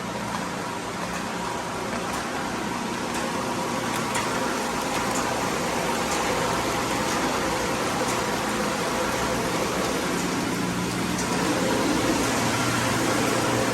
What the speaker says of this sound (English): The pump is strong and powerful